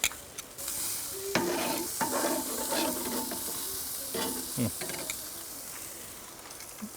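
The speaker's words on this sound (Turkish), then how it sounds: "Kuzuyu birazcık şu yağlarını kızartmam lazım." Lamb fat sizzles and crackles steadily on a hot charcoal grill, a bright continuous hiss broken by scraping and clinking of utensils.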